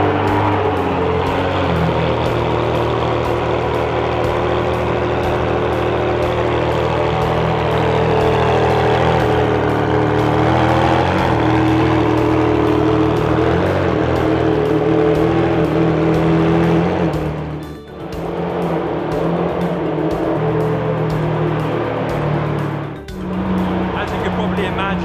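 A Ferrari Enzo engine runs loudly and continuously in a steady deep roar with shifting revs and two brief dips, heard close up, with people talking faintly underneath.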